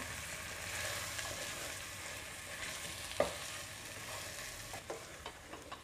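Mutton curry being sautéed with salt in a pan, a soft continuous sizzle with occasional stirring scrapes and a sharp clink of the spoon against the pan.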